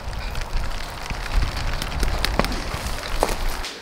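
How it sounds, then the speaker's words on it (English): Rain pours down outside in a spring downpour, a dense steady patter of drops on surfaces with a few louder close splats, moderately loud and without talk. "It's only gonna be raining for about 5 minutes."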